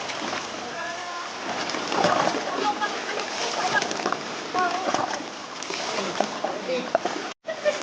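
Sea water splashing at a beach in Anda, Bohol, continuous busy sloshing and splatter close by, with people talking over it throughout.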